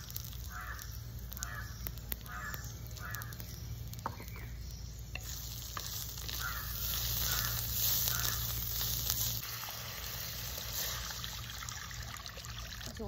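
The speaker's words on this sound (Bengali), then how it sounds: "জল ঢেলে দিলাম," Water poured into a hot pan for Odia dalma sets off a steady sizzle and trickle, with stirring and scattered clinks, and crows cawing rhythmically in the background.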